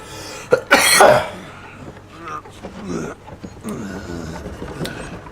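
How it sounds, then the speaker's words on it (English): One sharp, harsh cough bursts out close to the microphone, followed by softer breathing and muffled background sounds. "that one makes me cough"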